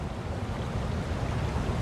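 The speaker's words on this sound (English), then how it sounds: "We hear the river." River water rushing steadily in The Lord of the Rings: Gollum video game, a dense, loud, continuous wash of flow with no speech.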